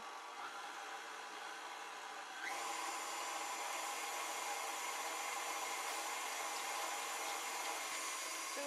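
A stand mixer with its whisk attachment whips Swiss meringue, giving a steady high-pitched electric whine that steps up to a louder, faster speed a couple of seconds in and then holds constant.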